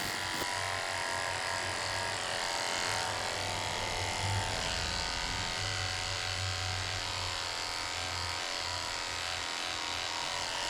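Electric clippers with a very short blade buzz steadily as they trim close around the eye corners of a senior Shih Tzu during grooming, a continuous near hum with faint rubbing, no talk.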